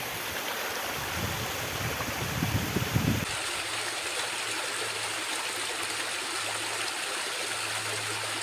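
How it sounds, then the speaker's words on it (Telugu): A waterfall on a hill trek in the Ananthagiri Hills gives a steady, close, even rush of falling water, with no voices. "హాఫ్ డిస్టెన్స్ ట్రెక్ చేసాక మనకి బ్యూటిఫుల్ వాటర్ ఫాల్ అయితే కనిపిస్తుంది"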